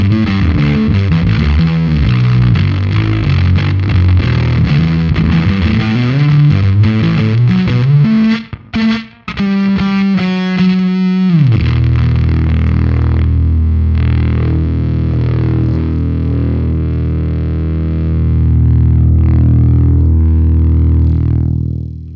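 An electric guitar plays through a Haunted Labs/Dirty Haggard Hell Horse fuzz delay pedal, loud and saturated, moving through chugging chords and a rapid picked run into long, thick sustained notes with echoing tails.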